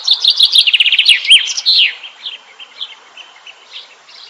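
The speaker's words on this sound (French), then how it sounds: "vous avez la chance d'observer les poules d'eau," Water hens calling by a river: a bright rapid burst of trilling chirps, close and fairly loud, then softer scattered calls trailing off.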